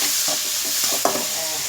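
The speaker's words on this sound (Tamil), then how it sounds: "இங்கிட்ட பீட்ரூட் வதங்குது." Tomatoes and beetroot sautéing in a pan, a loud constant sizzle and hiss with a few soft stirring scrapes and one sharp clink, no talking.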